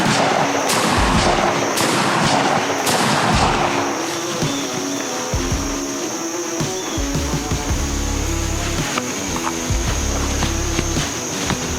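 A Hatsan BTS12 Escort semi-automatic shotgun fires a quick string of loud, sharp blasts close by outdoors, several rapid shots in succession, followed by ringing echoes and quieter handling noise.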